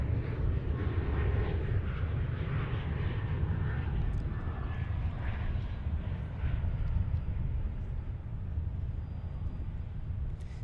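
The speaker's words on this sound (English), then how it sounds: "American 2376 rolling down runway 18 left here at DFW" An American Airlines airliner rolls down runway 18 Left at Dallas Fort Worth airport, a steady loud jet roar with heavy low rumble holding evenly throughout.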